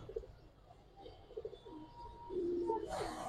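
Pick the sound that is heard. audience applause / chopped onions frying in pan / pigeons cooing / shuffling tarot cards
pigeons cooing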